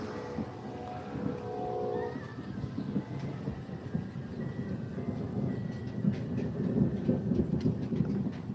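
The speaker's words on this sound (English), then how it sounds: "I hear the thunder rolling in. I hear some rain starting to hit." Low, rolling thunder rumbles on at a distance while light rain begins to patter, forming a continuous, fairly faint wash of sound.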